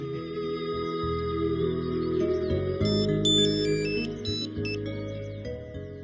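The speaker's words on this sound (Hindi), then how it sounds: "मिस्टर अग्रवाल को ही फोन ट्राई करता हूं" A phone rings out on an outgoing call in a Hindi TV serial, a steady electronic ringback tone repeating under a soft musical background, moderately quiet, with no voices.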